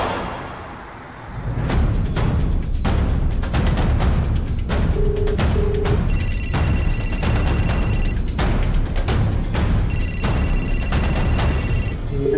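A phone ringtone repeats in tonal bursts over a loud, busy background of rumbling noise and sharp bangs.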